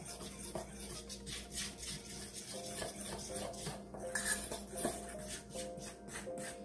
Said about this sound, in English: we're going to mix that up